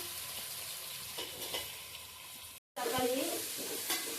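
Food for a mushroom biryani is sautéed and stirred in a pan, giving a soft steady sizzle with scraping stirs, briefly cut off partway through and then resuming louder.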